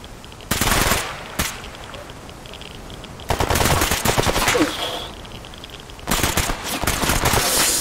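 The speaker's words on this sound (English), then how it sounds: "More shots." Bursts of automatic gunfire in S.T.A.L.K.E.R. Anomaly, three loud volleys of rapid shots separated by quieter gaps, with faint background ambience between them.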